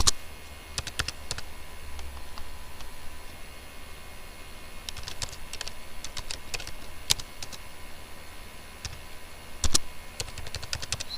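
Numbers are typed on a computer keyboard in a quiet room: irregular clusters of crisp key clicks over a faint fan hiss, with a louder key press near the end.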